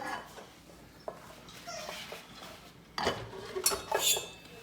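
A rice cooker being handled in a home kitchen: a soft, steady clatter of pots and utensils, with a few sharper metallic knocks near the end and no talking.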